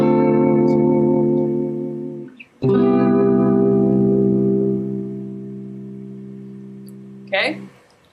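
A smooth guitar strums sustained, jazzy major seventh chords, each ringing out long before the next change, with a light pick scrape between them.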